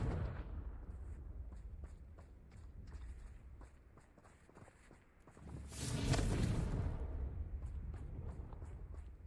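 A Confringo blasting spell goes off in a wizard video game: a short, bright explosive burst rises partway through, over a low, steady rumble and a series of light, regular thumps.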